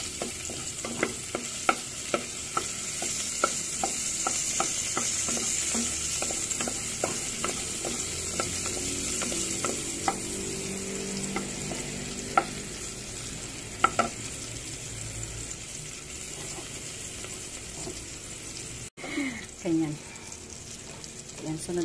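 Onion sautés in a hot pan while being stirred, a continuous sizzle marked by frequent sharp clicks and scrapes of a utensil against the metal. A voice is heard only briefly near the end, when the sizzle is interrupted and then resumes.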